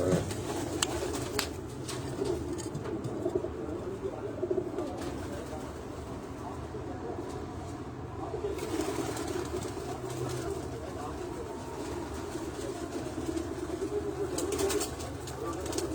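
Pigeons, including a paired male and female fancy pigeon, coo softly amid a busy outdoor backdrop with faint wing flutters and background murmur, the calls blending into steady ambient noise.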